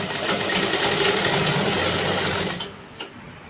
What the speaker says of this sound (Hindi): इसी तरह से मैं दोनों साइड की सिलाई अपनी कंप्लीट करती हूँ